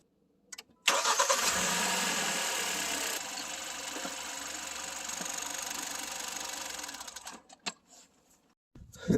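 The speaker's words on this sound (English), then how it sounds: "So first, start the car." A Kia or Hyundai car with a GDI engine cranks and catches close up, then settles into a steady idle for several seconds before the sound cuts off abruptly.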